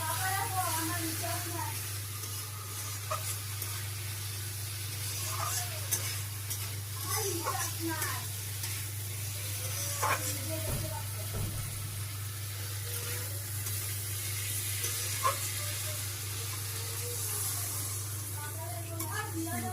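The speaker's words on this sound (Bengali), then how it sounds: "মশলাটা কষে নিয়ে পরিমাণ মতো জল দেবো, জলটা ফুটলে তারপরে মাছগুলো দেবো।" Spice masala frying in a pan in a home kitchen, a continuous sizzle with occasional stirring scrapes and clicks, over a steady low background hum while a person talks.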